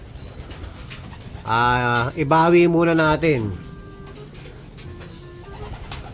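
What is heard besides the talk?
pigeon cooing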